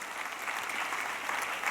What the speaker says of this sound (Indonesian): Tepuk tangan buat beliau beserta Ibu.